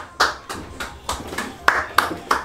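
A child claps his hands, applauding himself at home while a family assembles a dressing wardrobe, a run of sharp, close claps in an uneven rhythm, roughly six or seven over a couple of seconds.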